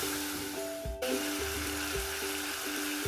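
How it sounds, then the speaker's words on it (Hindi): Chicken pieces frying with garlic powder in a pan, a steady close sizzle with faint periodic scraping or stirring taps running throughout, no talking. "इसमें अब हम डालेंगे अपना लहसुन का पाउडर, इसको हम अच्छी तरह भून देंगे"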